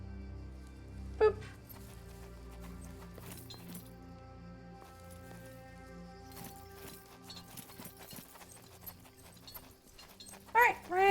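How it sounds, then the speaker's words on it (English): Horses galloping in a video game set in ancient Rome: continuous clip-clop of hooves with clinking and jingling, a brief whinny, and sharp game effects layered over a steady sustained musical drone. "Alright, ran the horses out."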